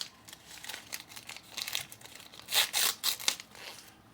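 A plastic package wrapper crinkles and tears open close by, with irregular rustling bursts growing louder toward the middle and no talk over it.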